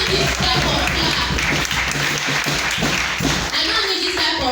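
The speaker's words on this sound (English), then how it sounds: "Please put your hands together for this our daddy." Children at a National Children's Day celebration clap their hands together for a father figure, a dense, continuous burst of clapping that runs throughout, mixed with voices and background chatter.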